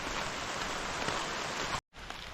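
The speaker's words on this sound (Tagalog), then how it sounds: "Kaya mga utol, bali maulan po ngayon." Steady broadband hiss of heavy, continuous rain pouring down on a garden where flowers are being knocked loose, loud and even throughout, cutting out abruptly for a moment near the end before resuming.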